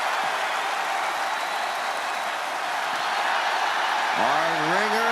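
An arena crowd in the WWE 2K24 wrestling game roars and cheers as a steady, dense wash of noise, with a rising tonal sound cutting in near the end.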